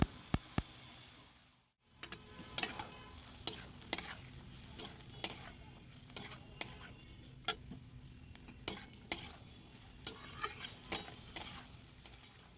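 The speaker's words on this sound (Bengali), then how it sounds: "পুরো মশলার সাথে মটরটাকে ভালো করে প্রথমে মিশিয়ে নেওয়া হচ্ছে" Boiled peas are stirred with whole spices in a pan, a spatula striking and scraping the metal in a steady series of sharp close knocks over a quiet sizzle, after a brief pause near the start.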